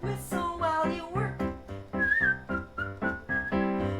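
Someone whistles a bright, melodic tune, the notes clear and close, coming in short phrases with brief gaps and sliding pitches, accompanied by a steady rhythmic backing.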